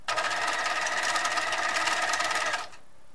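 A sewing machine runs continuously for about two and a half seconds, finishing the stitching on a men's shirt collar, then stops abruptly into near silence.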